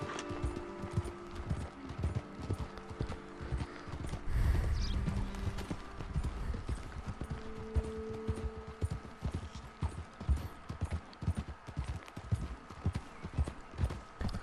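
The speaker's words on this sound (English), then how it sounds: "So, how long this horse ride gonna be, Captain?" Horse hooves clip-clopping at a steady gait during a ride in the video game Red Dead Redemption 2, a rhythmic close beat with a brief louder rumble partway through and faint creaking tack.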